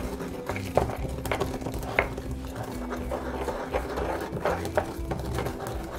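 Garlic cloves, oregano and salt are ground by hand, making repeated gritty scraping and knocking strokes in a steady rhythm, close and moderately loud, with no talking.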